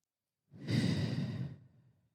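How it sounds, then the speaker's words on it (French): A single deep, audible breath in and out, close and soft, a breathy sigh of about one second that tapers away into silence. "nous allons prendre 3 grandes respirations"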